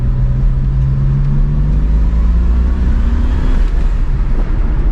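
A 1992 Dodge Stealth R/T twin turbo accelerates hard under full boost, its engine droning loud and steady from inside the cabin, the pitch climbing gradually over a constant low road rumble.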